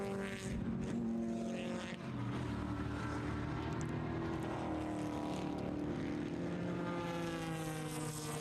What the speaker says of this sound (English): So the next time David Sanders crosses the start-finish line, he should be seeing the one to go here.